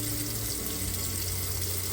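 Hot water is poured into a container of salted items being washed, giving a steady, close splashing stream that continues evenly for a couple of seconds.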